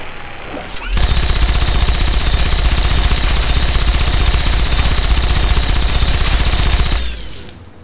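The Vengeance gatling laser in Fallout 3 fires in one sustained, loud burst of rapid buzzing shots lasting about six seconds, then cuts off and leaves a short fading tail.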